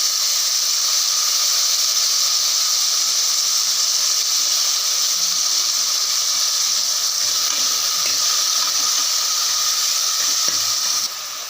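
Tomatoes frying in hot oil for a country-chicken curry, giving a steady, loud hiss and sizzle that runs unbroken and close, with faint clatter underneath.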